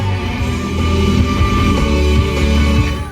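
Music from the base six-speaker audio system of a 2022 Ford Ranger XLT SuperCrew, tuned to an FM station: a dense, full-band song with strong bass, playing steadily and loudly throughout.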